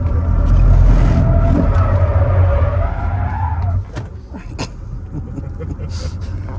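A single-motor, rear-wheel-drive Zeekr electric SUV of about 272 horsepower drifts through a corner, its tires scrubbing and squealing loudly for several seconds before fading, with voices talking over it.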